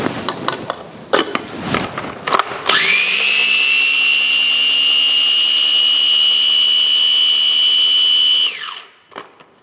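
A kitchen blender purees chopped herbs with olive oil, spinning up after a few clatters into a loud, steady high whine that holds for about six seconds before winding down to a stop.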